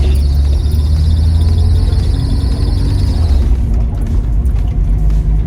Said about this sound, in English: A little bit of belt squeal.